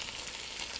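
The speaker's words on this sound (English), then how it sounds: "I'm going to drop the onions in" A small onion hits hot oil in a pan for zucchini soup, giving a steady, close, bright sizzle with no talk.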